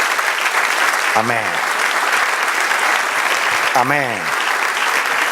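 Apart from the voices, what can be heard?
congregation applause in church service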